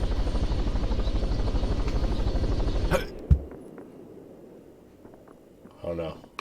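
Loud, steady rotor thump of a helicopter in a video game, Totally Reliable Delivery Service, cuts off suddenly midway, leaving a low hum with a thud and brief voice sounds after.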